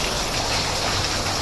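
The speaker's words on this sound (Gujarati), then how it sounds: "અહીંયા પણ ચાલુ છે પાણી." Water rushes steadily at the Nazar Mata waterfall, a dense, even roar of flowing water heard close up with no breaks.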